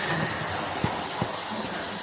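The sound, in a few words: Mainline model railway locomotive running on track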